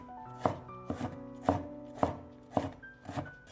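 A kitchen knife dices a peeled carrot into small cubes on a cutting board, with about seven steady, evenly spaced chops, close and clear with no talking.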